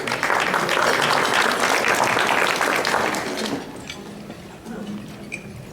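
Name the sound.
audience applause at a scholarship luncheon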